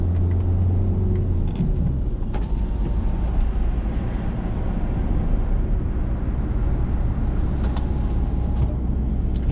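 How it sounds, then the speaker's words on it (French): A car engine drones steadily from inside the cabin as it accelerates and shifts into third gear during a driving lesson. The low, continuous rumble and road noise fill the whole stretch, with a brief change in tone early on. "Allez, on accélère et puis on met la 3."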